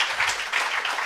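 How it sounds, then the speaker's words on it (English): Applause from an audience at a live-streamed environmental education event, a dense steady patter of many hands clapping throughout the short moment with no voices over it. "I think they deserve a huge applause"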